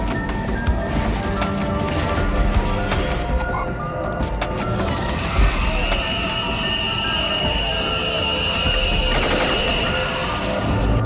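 Gunfire from soldiers in a zombie film, with rapid bursts of shots over a rumbling soundtrack and a metallic ringing swell partway through.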